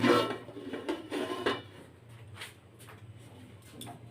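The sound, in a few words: heavy grinding stone lifted off a cake pot lid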